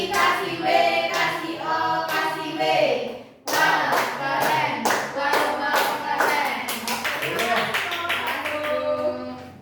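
Second-grade schoolchildren in an Indonesian classroom perform the rhythmic 'tepuk wow' clap-and-chant. Steady bursts of clapping mix with the children's loud chanting voices, with a short pause partway through.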